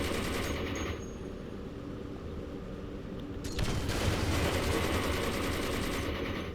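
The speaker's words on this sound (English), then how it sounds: "Let's see if chain gun can beat that." Four chain guns with a flak cannon fire in the DC Universe Online video game: a continuous, dense rattle of automatic fire that holds steady and grows a little heavier partway through, with no talk.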